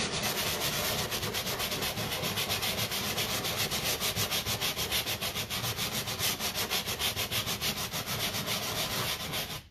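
A nylon brush rubbing wax into the fabric of an upholstered furniture piece, a fast continuous back-and-forth scrubbing that stays close and steady for the whole stretch with no talking.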